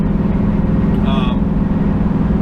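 Steady low engine drone of a light Ford Ranger pickup with a modified intake cruising at about 30 mph, a constant rumble with a brief higher whine partway through.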